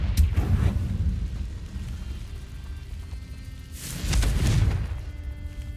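Confringo fire-blast spell cast in the video game Hogwarts Legacy, producing loud, booming explosive bursts at the start and again around four seconds over a continuous heavy rumble.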